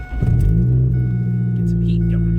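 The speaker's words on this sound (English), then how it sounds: "So I'm gonna start up the car here" A Ford Focus started on a cold, rainy day at a Miata-filled auto sports driving event, its engine catching with a deep rumble that settles into a steady low idle.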